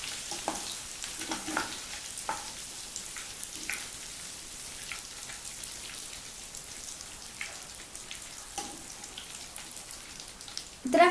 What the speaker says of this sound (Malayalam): ഇനി നമുക്കിതിലേക്ക് കറിവേപ്പില ഇട്ട് കൊടുക്കാം.